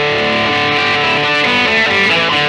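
An Epiphone Joe Bonamassa Les Paul electric guitar played through an amp with heavy distortion, a few sustained chords ringing out thick and buzzy, loud and close with no talking.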